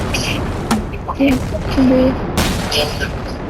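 Gunfire and explosions in the Roblox video game: a loud burst of rapid shots and booms, with sharp cracks recurring across a few seconds and some vocal sounds mixed in.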